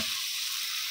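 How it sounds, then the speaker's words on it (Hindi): Potatoes fry lightly in a pan with a steady, close hiss of sizzling oil that holds evenly across a brief moment, with no speech. "इनको भी हमने हल्का सा फ्राई करना है।"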